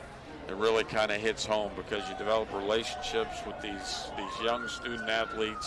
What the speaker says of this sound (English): If you hear the sirens in the background, we have the Tampa Fire Department located right across Kennedy Boulevard from outside the stadium here